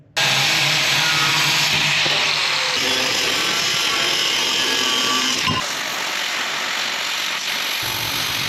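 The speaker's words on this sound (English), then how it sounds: "So yeah, I'm just going to get to cutting." A power tool bites into quarter-inch steel gusset on a 12 valve Cummins truck, a loud, harsh grinding roar that shifts pitch in stretches and cuts off briefly near the middle before continuing at close range.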